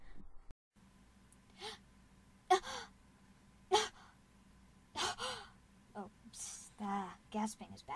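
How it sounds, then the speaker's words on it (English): A sharp gasp for breath after struggling underwater, then heavy breaths and sighs in a quiet room, a few separate bursts close to the microphone. "Gasping is bad."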